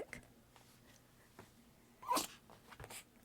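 A single sharp sneeze bursts out near the mic in a quiet room, a brief broadband snap standing alone against faint background noise.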